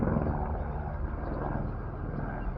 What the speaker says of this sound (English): You can hear a helicopter in the background.